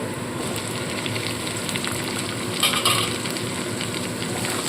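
Steady sizzle of diced capsicum and onion frying in a pan, a soft crackling hiss throughout, briefly louder midway as if stirred, with no voices.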